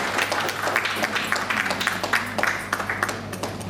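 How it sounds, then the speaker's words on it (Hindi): An audience applauds to welcome a special guest onto the stage at an event, with steady, moderately loud clapping and a low background hum. "जोरदार तालियों के बीच हमारे मंच पर स्वागत करेंगे हमारी खास अतिथि का डॉक्टर शुक्ला मोहंती।"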